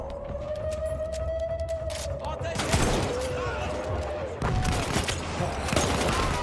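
Burst-fire weapon shooting in the Battlefield video game, dense rapid gunfire crackling steadily throughout over a low rumbling backdrop, with sharper bursts in the second half.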